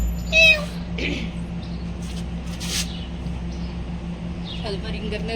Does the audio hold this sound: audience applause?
no